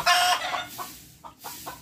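A chicken gives a loud squawk followed by several softer clucks, close by at a piggery, without talk.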